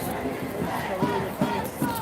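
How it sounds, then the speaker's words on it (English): A huge protest crowd fills both sides of Michigan Avenue in Chicago, a dense continuous roar of many voices with rising shouts and chants swelling every half second or so, loud and close. "Massive crowd, massive crowd."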